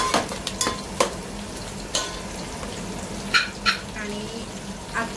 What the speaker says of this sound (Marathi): हे सगळं एकत्रच आपल्याला तेलामध्ये चांगलं परतून घ्यायचंय.